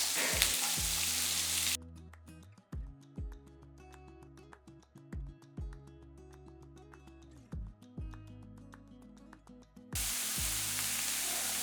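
Finely chopped onions and curry leaves sizzle and fry in a pan, a close steady crackle with brief pauses and scrapes as they are stirred, no talk over it.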